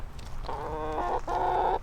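Chickens cluck and squawk close by on a cold snowy day, two drawn-out raspy calls over a low background rumble.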